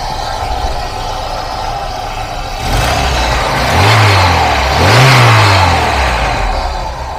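An old Lada's engine runs with a slight vibration and an oil smell. It holds a steady idle, then revs up twice in quick rising swells near the microphone.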